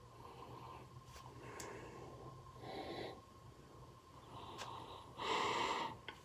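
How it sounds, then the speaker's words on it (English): A 2021 Prairie Artisan Ales Spectrum sour beer is sniffed up close from the glass: several short, soft nasal sniffs at irregular intervals over a quiet background, with no talking. "Let's give it a sniff."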